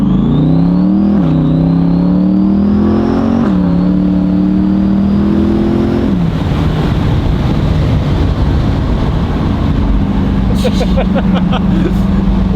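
A Demon Eye Corvette engine revs in rising bursts with a thin high whine climbing over the growl, then settles into a loud, rough steady roar, close by.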